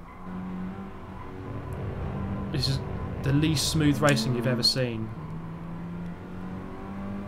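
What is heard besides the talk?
race car engines in Gran Turismo Sport video game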